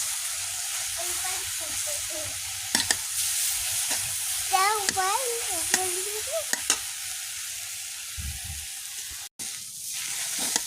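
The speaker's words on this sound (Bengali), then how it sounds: "ওইভাবে নাড়লে দলা বেঁধে যায় এইভাবে নাড়তে হবে" Leafy greens stirred in a frying pan give a steady sizzling hiss with repeated scraping strokes, while a voice talks over the cooking in the middle.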